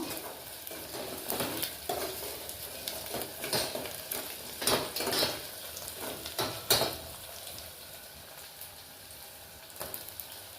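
Chopped tomatoes hit a pan of sautéed onions for a Tirunelveli-style fish curry, sizzling and frying steadily with scraping stirs and a few clinks of a utensil against the pan, then settling into a quieter sizzle.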